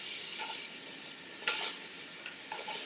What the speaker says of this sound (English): we're gonna saute these onions